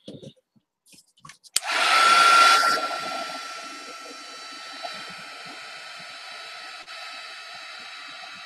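A hair dryer switches on and blows loudly and steadily close by, drying gesso on a watercolor art journal page, its whine settling to a lower continuous hum for several seconds.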